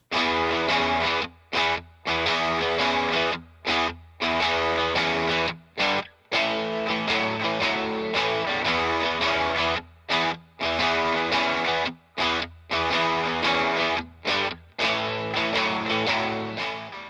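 Loud electric guitar with thick, gritty distortion from a cranked preamp, chugging chords cut by short rhythmic stops, filling the mix on its own.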